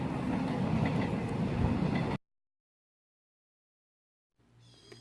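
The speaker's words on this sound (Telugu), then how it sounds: "అక్కడ ట్రైన్స్ ఎవ్రీ 10 మినిట్స్కి 15 మినిట్స్కి వెళ్తుంటాయి" A passing train in Korea, near a place where trains run every ten to fifteen minutes, gives a loud, steady rumble for about two seconds that cuts off abruptly. Silence follows, then faint background hum returns.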